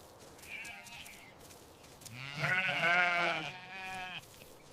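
A sheep out grazing in a meadow gives a long, wavering bleat at close range, rising to a loud middle and trailing off, with a fainter call just before it against quiet open air.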